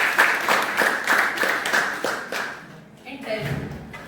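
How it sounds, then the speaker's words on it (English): A meeting audience at a Toastmasters club gathering claps together, a dense, rhythmic patter of applause lasting a few seconds before a voice resumes speaking. "let's have a big round of applause"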